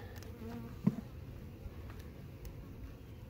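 A caught swarm of dark honey bees hums in a continuous close drone within a hive box, one brief knock standing out near the start.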